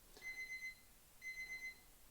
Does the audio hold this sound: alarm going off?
yes